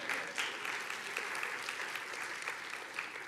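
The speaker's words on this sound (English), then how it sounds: "You can clap for my grandma." A church congregation claps during a sermon in honour of the preacher's grandmother, a steady, fairly distant round of applause that carries on evenly throughout with no voices over it.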